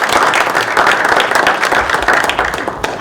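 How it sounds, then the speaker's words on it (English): A large audience at a press briefing breaks into steady, loud applause, dense overlapping clapping that stays even throughout with a faint crowd murmur beneath. "Let's give a round of applause."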